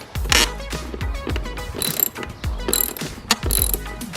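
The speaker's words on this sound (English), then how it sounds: "you're going to want to remove this bolt right here so you can take the top off. It is a 10mm bolt." Rapid clicking of a ratchet wrench loosening a 10mm air box bolt on a Lexus IS250, with repeated short bursts of ratcheting at a close, steady rhythm.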